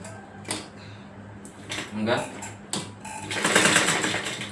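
A sewing machine stitches a hook strip on a small girl's frock in short bursts of rapid needle chatter, growing louder and more continuous near the end, with someone talking over it.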